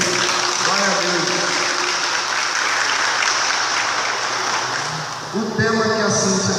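A church congregation breaks into sustained applause during a sermon, dense clapping filling the room for several seconds before fading, then a voice begins speaking over the last scattered claps.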